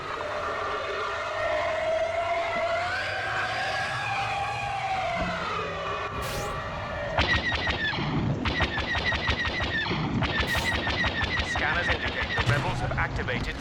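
Heavy blaster gunfire in Star Wars Battlefront, with rapid rattling bursts that build in the second half over a dense battlefield din and sirens, and voices talking underneath.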